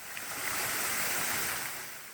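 The three-tiered Jogok waterfall at Mungyeong Saejae, about 45 m high, pours in a steady, full rushing roar that stays constant and fairly close, with no voices over it.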